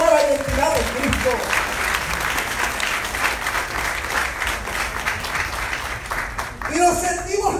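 A church congregation breaks into sustained applause, a dense steady wash of clapping across the room with a voice speaking at the start and again at the end.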